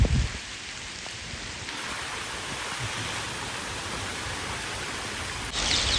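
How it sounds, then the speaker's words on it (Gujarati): Heavy rain with strong wind pours down in a village near Botad, making a steady, dense hiss that stays constant throughout, with a slight swell at the start and end. "મિત્ર કેવો પવન થાય છે ને જમીનદાર વરસાદ ચાલુ છે"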